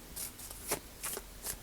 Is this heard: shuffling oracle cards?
yes